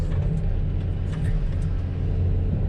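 A 6x6 log truck's engine rumbles steadily and loudly at close range, a constant low drone with no pauses.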